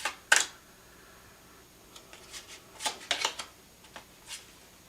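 Tarot cards being shuffled and drawn, with a sharp snap followed by quiet, scattered flicks and soft slides of cards, close and faint, with no talking.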